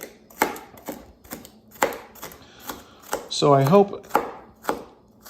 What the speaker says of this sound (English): And then we're going to dice the green pepper up.